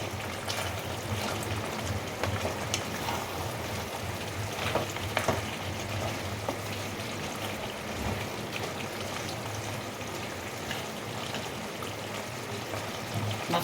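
A potato curry with fish heads simmers and bubbles in a pan, a continuous soft sizzle with scattered stirring scrapes and clicks, fairly quiet and with no speech.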